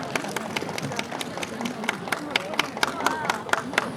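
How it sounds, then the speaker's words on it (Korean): A crowd at an outdoor city festival talk show claps to welcome a magazine editor onto the stage. The clapping is light and scattered, with separate claps standing out over low chatter from the audience. "큰 박수 부탁드립니다"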